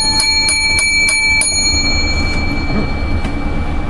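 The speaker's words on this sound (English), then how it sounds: "we sure need our seven lucky bells for the show" Seven bells strike in a quick even series, each a bright ringing tone with a lingering shimmer, over a steady low rumbling background hum.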